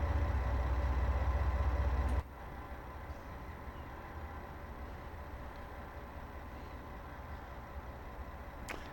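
A twin diesel train engine idles in Train Sim World 2 on a Dresden local line, a steady low rumble that drops to a quieter, even drone after a couple of seconds and continues without voices.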